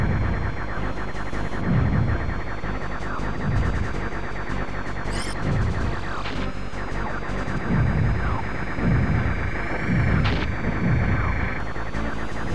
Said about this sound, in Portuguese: Aqui é muito tiro, mano.